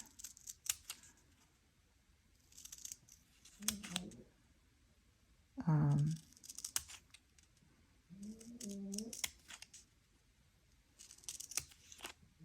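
Scissors cut through Diamond Art kit sheets in a series of short snips and crisp clicks scattered across the stretch, close and fairly quiet, with a few soft voiced murmurs between the cuts.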